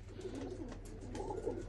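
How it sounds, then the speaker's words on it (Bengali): Cobra Teddy pigeons coo softly at close range, a few low rolling calls rising and falling over a faint steady hum. "আর এই হচ্ছে কবুতর"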